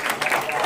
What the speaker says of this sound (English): Another clap for Ikomoko for the wonderful job